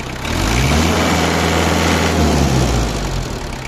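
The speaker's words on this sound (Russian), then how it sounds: "Мотор работает очень мягко по сравнению с 3-цилиндровым двигателем." A Kubota X20 mini tractor engine runs steadily and smoothly at a constant idle, loud and close, with a low even hum and no voices.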